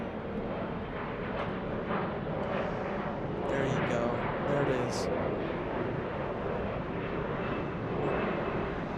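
A fixed-wing airplane passes overhead near Los Angeles, giving a steady, fairly loud engine drone that swells slightly midway, with a few faint voices underneath.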